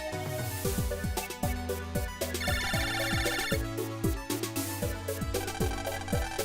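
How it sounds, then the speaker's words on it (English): A phone ringtone from the MegaMan Battle Network game plays as a bright electronic jingle over steady, busy game music, loud and continuous throughout. "you got a phone call"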